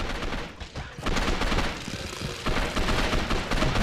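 A single-shot gun fires in Gotham City Impostors. Several distinct, punchy reports go off one after another at irregular intervals over dense, noisy in-game action, each one close and forceful.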